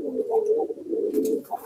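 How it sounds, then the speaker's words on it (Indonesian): Domestic pigeon about to lay eggs, cooing close by in a steady low rolling murmur that swells and dips over a couple of seconds, with no other sound around it. "Burung merpati ini mau bertelur."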